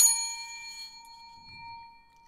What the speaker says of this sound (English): I never thought I would ring the bell for her